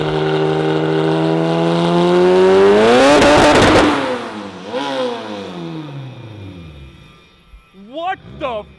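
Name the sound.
Lotus engine revving on dyno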